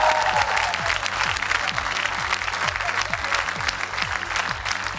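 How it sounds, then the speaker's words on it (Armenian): Audience applause at a TV gala show, a loud, steady wash of clapping from a large crowd that fills the whole stretch with no break. "ձեր ծափարությունները"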